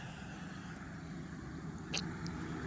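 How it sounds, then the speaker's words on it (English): Traffic on a nearby main road makes a faint steady rumble, with one vehicle swelling briefly louder as it passes, all distant and without voices. "sorry, traffic"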